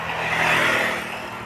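A motorcycle engine revs up and holds a steady, loud drone at close range, with no talking over it.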